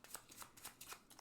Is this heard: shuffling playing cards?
yes